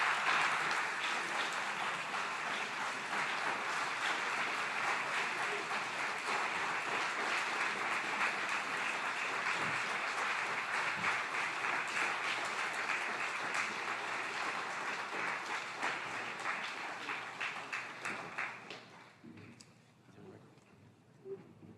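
Sustained audience applause after a speech fills the room at steady loudness for about eighteen seconds, then tapers off into scattered claps and quiet.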